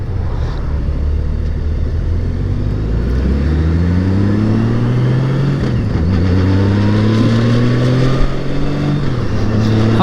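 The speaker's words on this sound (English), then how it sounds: "Yeah, traffic. I hate traffic." Steady motorcycle engine and road drone while riding a Honda Gold Wing in traffic, loud and continuous with shifting engine pitch and passing vehicle hum throughout.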